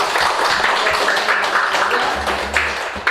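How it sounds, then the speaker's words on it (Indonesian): A class of schoolchildren claps briefly for two classmates, a loose patter of hands mixed with a murmur of young voices in the room. "tepuk tangan buat Kayla dan Dara"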